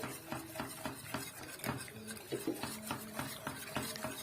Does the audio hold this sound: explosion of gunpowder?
no